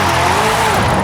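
A V8-powered Subaru Impreza in Forza Horizon 5 roars at high revs in a loud, continuous engine note with a slight rise in pitch, heard alone over about one second.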